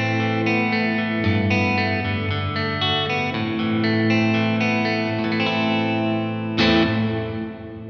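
An electric guitar plays through a Universal Audio UAFX Heavenly Plate reverb pedal on its C plate setting, sustained chords ringing with a bright, lush tail and one final strum left to decay, with no talking.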